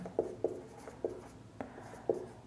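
Pen strokes scratching on paper while a geometry answer is written out by hand, short bursts of writing separated by brief pauses, close and fairly quiet, no talking.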